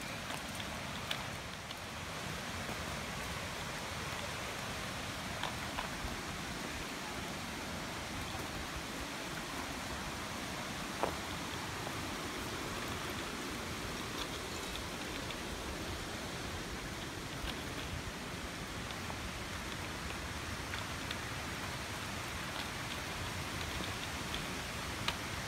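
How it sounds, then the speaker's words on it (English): Waterfalls in Karura Forest, Kenya, give a steady, even broadband rush of falling water that holds constant throughout, with a few faint ticks and clicks on top and no talking. "I guess these are the waterfalls."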